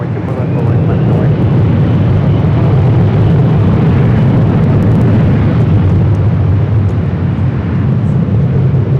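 An Emirates airliner on runway 24 left at LAX produces a continuous loud, deep jet roar that holds steady throughout with little variation.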